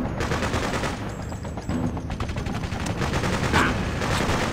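Sustained automatic gunfire from the video game Freedom Fighters rattles in dense, rapid bursts throughout, loud and close, with a layered battle din behind it.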